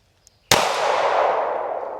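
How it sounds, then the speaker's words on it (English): A single handgun shot at a training range, one sharp loud crack after a moment of near silence, followed by a long ringing echo that slowly fades. "I'll just shoot one to show you."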